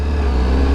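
A warmed-up Honda CBR1000RR-R Fireblade SP motorcycle engine holds a steady, close, droning idle for a brief moment, with no voices.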